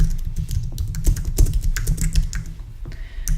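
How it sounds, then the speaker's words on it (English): Steady typing on a computer keyboard while adding text to a WordPress page, a dense run of close, crisp key clicks with uneven rhythm, briefly thinning near the end. "So we're just going to start typing."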